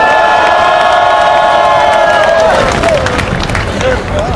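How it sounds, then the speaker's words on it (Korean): A crowd cheers and applauds at an outdoor protest rally, loud and close, with a sustained tone early on and shouting voices mixed into the noise. "큰 박수로 맞이해 주십시오"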